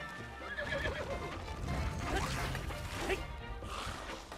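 A horse in Breath of the Wild neighing and whinnying during a fight, loud shrill calls with scuffling, clattering hoof and combat noise mixed throughout.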